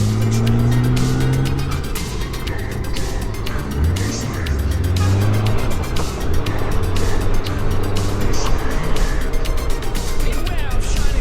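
A BMW K1600 motorcycle weaves through Istanbul city traffic, its loud, close engine droning continuously with rising and falling pitch under rushing wind, other vehicles passing around it.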